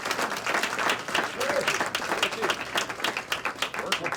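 Applause from an audience at a community leaders' recognition event in New Jersey, steady dense clapping that holds at a fairly loud level through the whole stretch, with some crowd murmur mixed in.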